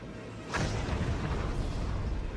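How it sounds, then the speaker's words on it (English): A huge thundering explosion rips through Kokomo at night. It starts as a sudden deep boom and then becomes a loud, sustained rumble that fills the rest of the moment, with no voices. "There was a huge thundering boom that shook the town, rattling windows and shaking homes."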